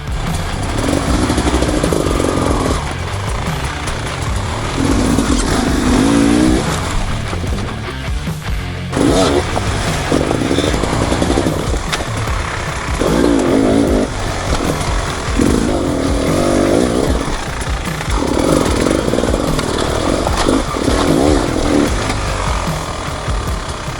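An enduro motorcycle works a difficult off-road route near Kryvyi Rih, its engine loud and close, revving in repeated surges and dips for the whole stretch without pause.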